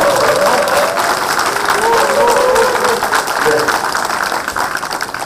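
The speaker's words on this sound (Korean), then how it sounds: "뜨거운 박수로 말씀 바랍니다." Warm, sustained applause from a room full of attendees at a political party workshop for elected candidates in Busan, dense and continuous clapping throughout, with a voice speaking over it in places.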